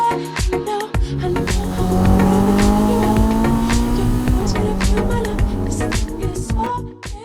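A Ferrari SF90 hybrid is driven hard in qualifying mode, its engine loud and close, revving up in a long rising pull then shifting and surging again with tire noise, no talk.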